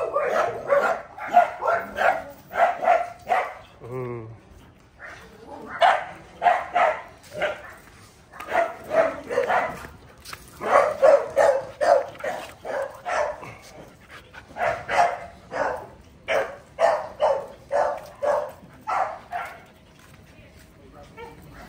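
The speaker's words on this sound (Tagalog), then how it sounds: "Ang tapang-tapang ng aso mo, Doc Kim." A Belgian Malinois barks repeatedly in close, rhythmic bursts with short yips and a whimper, continuing throughout.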